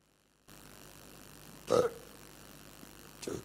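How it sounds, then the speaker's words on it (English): Two deep belches from a person, a longer one followed about a second and a half later by a shorter, softer one, each rising out of a quiet room hum. "My reaction also belching."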